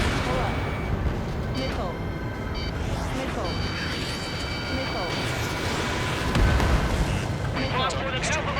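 Missile launches and explosions roar through an aerial battle in the video game Ace Combat 7, a dense, continuous rumble of booms and blasts. Radio voices talk over the din.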